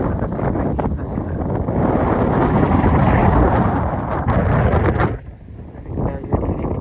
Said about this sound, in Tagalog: Lumakas na naman yung hangin, guys.